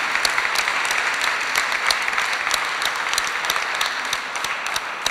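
An audience at a press conference for the 56th Festival dei Due Mondi gives a warm round of applause for Giorgio Ferrara: dense, sustained clapping with sharp individual claps standing out, close and loud, with no talk over it.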